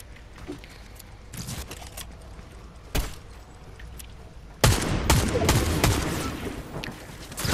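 Shotgun fire in the Fortnite video game during a ranked match: several sharp blasts, some distant and one loud close burst, over steady game background noise with scattered further shots.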